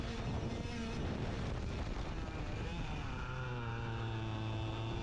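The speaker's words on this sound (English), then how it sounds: "listen to the engine note as well" A racing kart engine drones loudly and continuously on track, its pitch rising and falling as it revs, with heavy wind buffeting over it.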